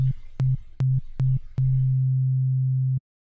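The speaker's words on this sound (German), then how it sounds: "ich habe den Ton, das ist die Standard-Sinuswelle" A steady pure sine-wave tone from a Bitwig synthesizer, first pulsed in four short bursts with faint clicks, then held continuously for about a second and a half before cutting off.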